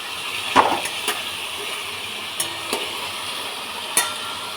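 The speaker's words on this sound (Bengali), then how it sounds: "আর যে আলুগুলো কাটা ছিল, সেই আলুগুলো কিন্তু আমি ভাজবো।" Cut potatoes frying in a pan while being stirred, a low sizzle under several sharp utensil scrapes and knocks spaced irregularly, close by.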